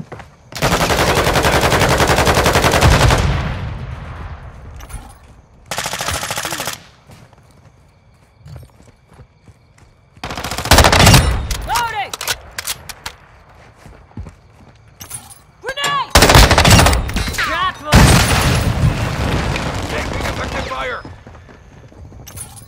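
Gunfire in the video game Call of Duty: Modern Warfare: loud sustained automatic bursts, the first lasting several seconds, followed by shorter volleys and scattered shots separated by quieter gaps, with brief voices calling out between bursts.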